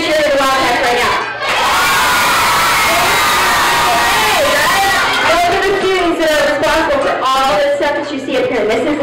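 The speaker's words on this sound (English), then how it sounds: "So I think what would be really nice right now is if we get a really loud cheer to Mountain View and U of A." Large school crowd cheering loudly for the Wildcats at an event, a sustained roar of shouts, whoops and children's voices filling the whole stretch after a brief dip near the start.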